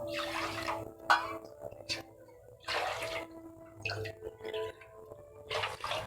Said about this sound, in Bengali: চার বাটি জল দিয়ে দিলাম।